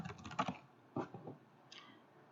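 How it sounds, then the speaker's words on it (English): Keys clatter on a computer keyboard while information is entered into an Excel 2016 spreadsheet: quiet, close clusters of rapid keystrokes separated by short pauses, with no talking. "you need to finish, typing the rest of the information"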